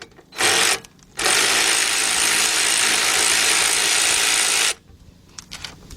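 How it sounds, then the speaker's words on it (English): A ratchet wrench loosens a rear brake caliper bracket bolt on a Buick Enclave, Chevy Traverse or GMC Acadia, making a short clicking burst followed by a long, steady, close rattling run that stops abruptly. "Let's go down here to our bottom one. Break that loose."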